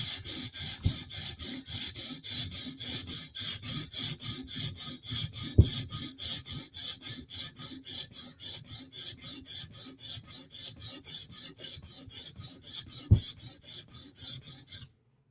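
A blade is drawn across a sharpening stone in quick, rhythmic rasping strokes, about three per second, steady and close, with a couple of sharper knocks partway through.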